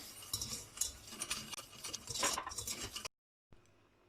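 Starch, sugar and cocoa stirred together in a bowl for a cake make a soft, continuous scraping and swishing. The sound breaks off into a brief silence, then resumes faintly.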